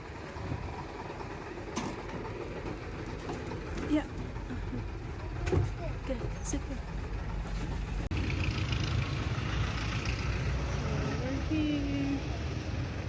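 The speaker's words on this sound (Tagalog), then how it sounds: "Let's go take a jeep." A jeepney rides through traffic with a steady engine and road rumble, occasional rattles and clunks, and people talking over the noise.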